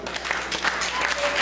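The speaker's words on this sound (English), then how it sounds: "So everyone clap for the moms." A concert crowd at the Cave in San Jose, 2005, claps for the mothers in the room, a brief, steady wash of moderately loud applause with no voices on top.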